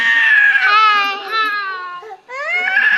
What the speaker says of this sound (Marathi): हा बघा रडतोय बघा कसा